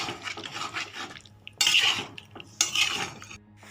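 A spoon stirs fried small new potatoes in masala in a pan for a vegetarian aloo dum, giving close scraping and clinking strokes, with two sharper scrapes in quick succession.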